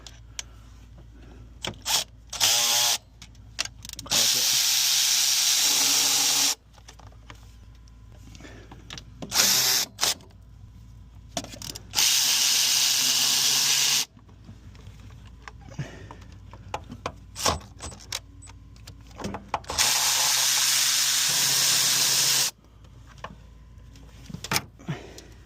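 Milwaukee long-range power ratchet taking 13 mm bolts off a valve cover on a 7.3 diesel F-250, several loud sustained whirring bursts of a few seconds each separated by quieter clinks and handling noise.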